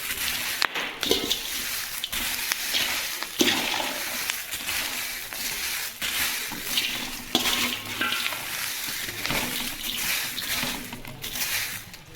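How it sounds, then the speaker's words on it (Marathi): Chillies are dry-roasted in a large pot, stirred steadily with a continuous rustling, scraping, frying-like rattle that stays close and fairly loud throughout. "घमिल्यामध्ये ना मी मिरच्या भाजते"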